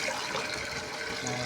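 Water poured onto young mango saplings, a continuous splashing trickle at close range with a faint background murmur.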